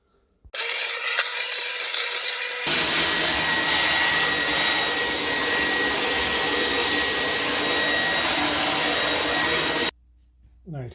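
A hoover vacuum cleaner switches on with a loud, steady whine and roar as it cleans a dirty floor, then cuts off abruptly near the end.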